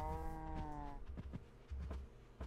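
A cow in Minecraft gives one drawn-out moo, followed by soft shuffling and small game sounds, quiet and close.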